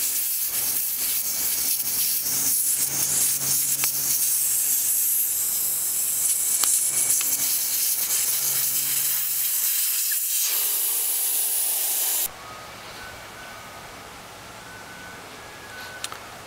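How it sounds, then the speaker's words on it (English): Air rushes out of the inner tube valve of a Chang Jiang 750 motorcycle tire in a loud, steady hiss lasting about twelve seconds before abruptly dropping to a faint residual hiss. "you have to take the air out of the tube"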